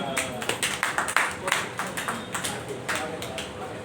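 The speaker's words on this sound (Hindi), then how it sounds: "एक बार जोरदार तालियां" A crowd claps in a brisk, uneven burst of applause at a Hindi poetry recital, sharp hand slaps close by, with a voice briefly audible amid the clapping.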